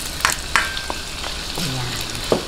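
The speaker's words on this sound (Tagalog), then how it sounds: "iprito po muna natin tong patatas at carrots." Potatoes and carrots fry in hot oil for a beef mechado, giving a steady close crackling sizzle with a few sharp stirring clinks and scrapes.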